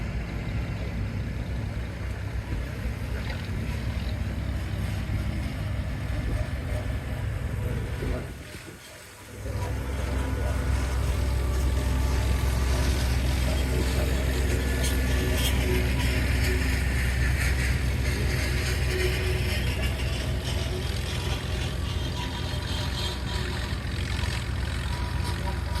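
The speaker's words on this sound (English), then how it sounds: "Bill Sprung backing into that sled on an Oliver 66 tricolor Ollie, built 1949" An Oliver 66 tricolor tractor built in 1949 runs steadily at an antique tractor pull while pulling the sled. Its engine drones loud and continuous, dips briefly partway through, then keeps labouring, with a crowd and announcer faintly underneath.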